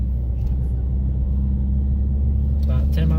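Subaru WRX (2018) pulling away in first gear at low speed, a steady close engine drone and rumble with no clear rev rise, voices briefly joining near the end.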